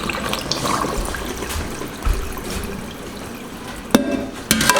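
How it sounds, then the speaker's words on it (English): Cold water runs steadily from a tap over fabric being rinsed of avocado dye, a continuous close splashing wash with a few sharp knocks near the end. "then I just ran some cold water over it and rinsed off all of the bits and pieces of the dye stuff"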